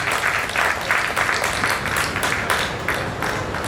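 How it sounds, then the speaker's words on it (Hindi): An audience applauds at a Durga Puja celebration held by a welfare association, with steady crowd clapping and rhythmic bursts of claps running throughout, fairly loud and close with no talking. "एक बार जोरदार तालियां।"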